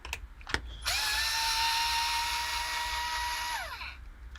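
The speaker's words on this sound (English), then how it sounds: "use power tools for this one, because I just" Power drill spinning out RC car battery tray screws on a Traxxas TRX4 G500 during a light kit and Hobbywing AXE install; a short click, then one sustained whine for about three seconds that winds down at the end, close and loud, no talk.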